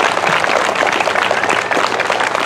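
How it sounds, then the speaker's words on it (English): Applause for school staff at an elementary school legacy celebration ceremony, a dense, steady clatter of clapping from a crowd that holds at an even level throughout, with no talk over it. "So can I have a round of applause for our staff?"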